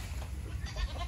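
A goat from a grandfather's herd in the Vietnamese countryside bleats while being fed plum leaves, a faint, short call close by with no talk over it.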